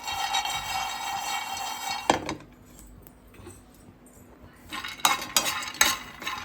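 Peanuts frying in a pan for a homemade chilli chutney, stirred with a utensil that clinks and scrapes against the metal; the clatter comes in bursts near the start and again toward the end, with a quieter stretch between.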